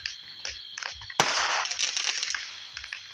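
Neighbors setting off fireworks out in the country, heard from a distance: a sharp loud bang followed by a rush of crackling bursts and pops that fade out over a few seconds, with smaller pops before it.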